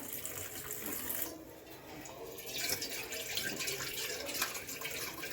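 Cold tap water running steadily and pouring over freshly boiled pasta in a kitchen, a continuous splashing rush that briefly dips before resuming full and close.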